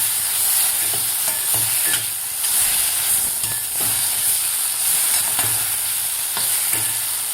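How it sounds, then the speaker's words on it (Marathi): Ground masala made without water, for a bitter gourd dish, sizzles in a hot pan with a continuous frying hiss. A spatula scrapes and stirs it at regular intervals. The sound is close and fairly loud, with no talking. "आता मसाला आपल्याला व्यवस्थित परतून घ्यायचा आहे"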